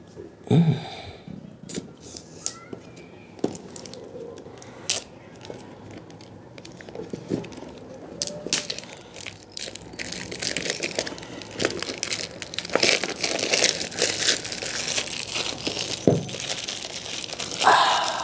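A vivo X80 Pro 5G smartphone retail box is opened up close: crinkling, rubbing and tearing of packaging, cardboard scrapes and small knocks, irregular and fairly loud, growing busier toward the end.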